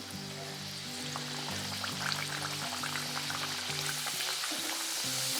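Star-shaped wheat puri deep-fries in hot oil with a soft, continuous bubbling sizzle, fairly quiet and steady throughout, over a faint tonal background.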